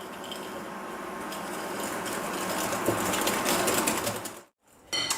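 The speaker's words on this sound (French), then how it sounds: "Dans le saladier, je verse mes jaunes, le sucre et le sucre vanillé. Et je fouette tout ça environ 1 minute." Egg yolks, sugar and vanilla sugar whisked in a mixing bowl, a steady, fast scraping and rattling whir close up that runs for several seconds before stopping abruptly, then resumes briefly.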